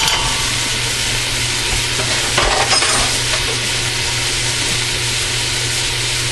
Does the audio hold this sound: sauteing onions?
yes